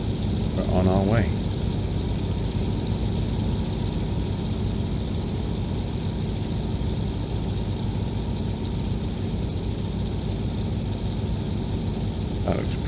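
Steady drone of a Beaver aircraft's radial engine at cruise in the X-Plane 11 flight simulator, a constant, even hum throughout with a brief voice at the start.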